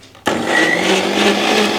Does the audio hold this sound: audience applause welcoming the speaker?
no